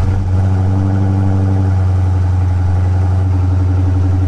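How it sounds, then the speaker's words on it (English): A car engine runs steadily at idle, a low, even rumble with a strong drone throughout; the moment of cranking is not clearly set apart. "So I'm gonna go ahead and start the engine"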